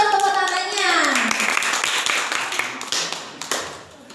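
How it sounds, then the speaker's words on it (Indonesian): Students applaud in a classroom: a burst of many hands clapping, dense and fairly loud, rising out of a voice heard at the start and then gradually thinning out. "Semangat buat tepuk tangannya."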